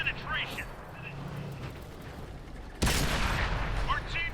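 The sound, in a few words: tank gun firing shots in World of Tanks video game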